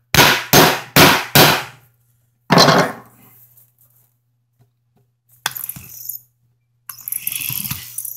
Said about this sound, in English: We're just going to flatten this out a little bit with the hammer.